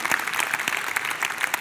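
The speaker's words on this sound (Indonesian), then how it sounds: "Anda tepuk tangan untuk kebenaran ini." A church congregation gives a brief round of applause. The claps are fairly faint and loosely spaced, and no voices are heard over them.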